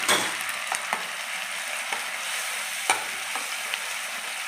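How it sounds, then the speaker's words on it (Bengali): Loud continuous sizzle of a garlic and onion paste frying with fried onions in hot oil, broken by faint clicks of a spoon stirring now and then, with no voices. "রসুন, পেঁয়াজের পেস্টটা দিয়ে দিলাম।"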